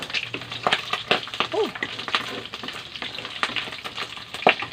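Bottle gourd sautéing in oil in a pan as it is stirred, a crackling sizzle punctuated by repeated utensil scrapes and clacks against the pan, fairly close, with brief voice sounds in the background.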